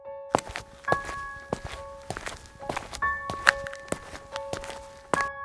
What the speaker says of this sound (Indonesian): tiba-tiba terdengar seperti ada suara langkah kaki yang mendekatinya